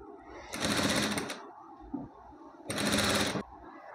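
Sewing machine stitching a contrast-colour fabric for a puffed sleeve, heard in two loud, fast bursts of rapid needle clatter about a second long each, separated by a brief quieter pause, close by.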